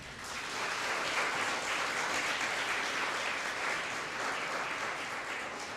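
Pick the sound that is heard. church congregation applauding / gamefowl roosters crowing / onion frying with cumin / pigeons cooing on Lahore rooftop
church congregation applauding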